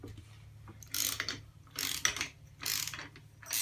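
Ratchet on a socket extension loosening the front wheel nut of a BMX bike, giving three close bursts of rapid clicking separated by short pauses over a low hum.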